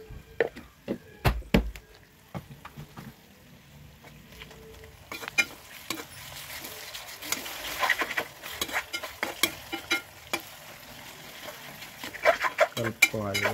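A spoon scrapes and clinks through ginger and turmeric in a hot pan for egg curry, with a soft sizzle beneath. The irregular stirring knocks grow busier and denser toward the end.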